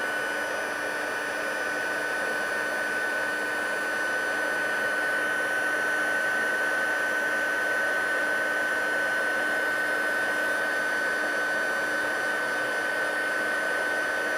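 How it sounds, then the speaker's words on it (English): A heat gun blows a steady, even whir with a faint high whine throughout, warming embossing on a handmade card, with no talk. "Once you've used a heat gun once or twice when you're doing a batch of cards, it'll do it a little bit faster once it's warmed."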